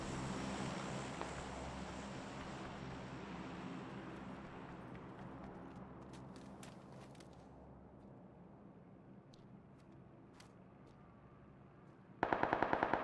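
Gunfire in the video game PUBG: a loud, rapid automatic burst erupts near the end after a long stretch of quieter rumble and scattered faint clicks.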